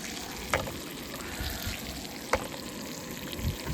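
Bacon sizzles in a pan while breakfast cooks, a constant soft hiss at moderate distance with two short brighter pops, and no one speaking.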